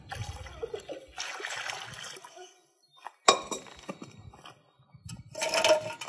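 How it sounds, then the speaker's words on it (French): River water poured into a foot bath, with glassy clinks and splashy bursts near the start, around the middle and at the end, separated by quieter gaps and a sharp knock. "nous rajoutons ici de l'eau de rivière"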